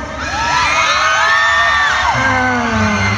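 A crowd at a Sport Expo stage event cheers and shouts loudly and continuously, with many high excited voices, whoops and rising calls close together.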